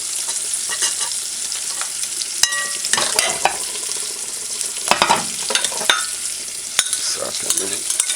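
Sliced sweet peppers sizzling in a pan, with a steady frying hiss broken by sharp clinks and scrapes as a utensil stirs them, close and clear with no talking.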